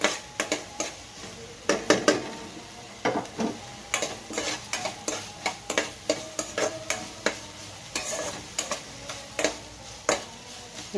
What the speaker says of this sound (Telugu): ఉల్లిపాయలు పచ్చిమిరకాయలు క్యాప్సికం ముక్కలు వేసాను ఇవి కొంచెం సేపు మగ్గబెట్టేసుకొని